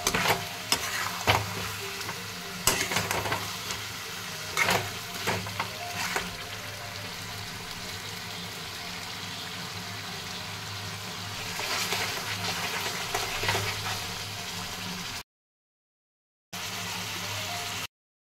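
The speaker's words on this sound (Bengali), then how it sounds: "আদা রসুনটাকে ভালোভাবে ভাজতে হবে 1 থেকে 2 মিনিট।" Ginger and garlic fry in a pan, a continuous close sizzle broken by spatula stirs and scrapes, briefly cutting out near the end before resuming.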